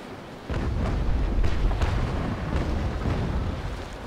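Broadside of naval cannon fire from an age-of-sail warship, aimed at an enemy ship's sails, rolls out as a continuous rumble of deep booms and crackling bursts, with several distinct impacts over a few seconds.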